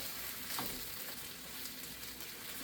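Hash browns frying in a pan on a stovetop, with a steady dense sizzle and small crackles running throughout, close and even, with no voices.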